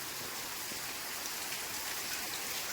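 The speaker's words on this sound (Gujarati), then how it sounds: "અત્યારે તો વરસાદ થોડોક વધી ગયો છે" Steady, dense rain falls throughout on a farm in Gir, Gujarat, an even hiss of drops with no voices.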